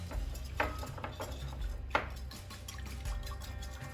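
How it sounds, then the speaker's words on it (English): Oil and water whisked together in a bowl for roasted cauliflower and chickpeas, giving a steady close scraping and clinking of the whisk against the bowl with a couple of sharper taps, no talking. "Then whisk it up real thoroughly"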